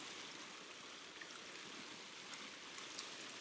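Steady rushing white water of a highland stream in Sutherland, a continuous broadband roar heard close and alone.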